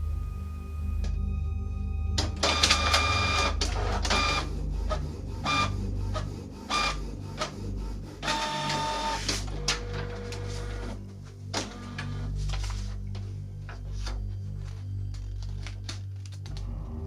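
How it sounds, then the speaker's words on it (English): A home printer printing a page on its own, giving a steady mechanical whir with repeated short feed clunks and stepping bursts, fairly loud and close, with no talking. "This just printed out on its own out of my printer."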